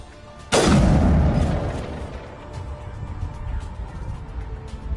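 A single heavy rifle shot booms out in the Mass Effect Legendary Edition video game, a loud sudden blast with a long rumbling decay, followed by quieter background battle noise.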